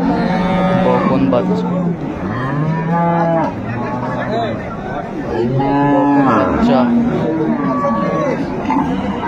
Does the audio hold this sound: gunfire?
no